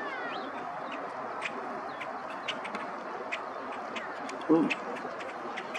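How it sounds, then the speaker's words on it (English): A green-winged teal calls at a riparian preserve wetland, short high chirping peeps repeating over a bed of mixed bird chatter, fairly faint, with a brief voice murmur near the end. "It's a green winged teal."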